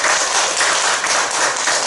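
Steady applause from a church congregation during a Sunday worship service, a continuous wash of many hands clapping at even volume for a couple of seconds with no talk over it.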